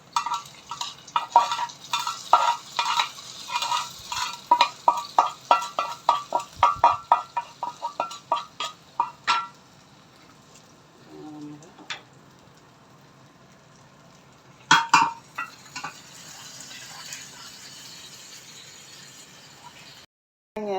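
Fried tempering tipped into a pot of pumpkin and yam erissery, then stirred: a run of sharp clattering spoon-on-pot scrapes and sizzles up close, pausing, then a brief burst of scraping and a low steady sizzle alone.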